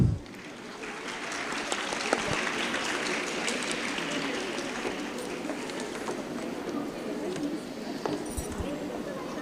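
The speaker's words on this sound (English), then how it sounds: "A round of applause, please, for our judges." A conference audience at a national nursing conference applauds to welcome the judges, a sustained, even clapping that fills the hall for several seconds after an opening burst.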